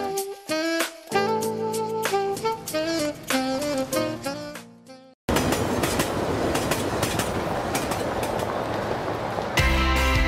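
A train runs along the track with a steady rumbling roar and clatter that follows a stretch of tonal music, a Lithuanian Railways advert heard loud and close.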